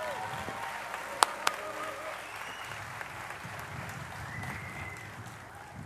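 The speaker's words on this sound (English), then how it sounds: "Can we give him a big round of applause?" Audience applause at a civic event celebrating The Wharf waterfront development, a steady moderate wash of clapping from a crowd with a couple of sharp louder claps early on, fading slightly toward the end.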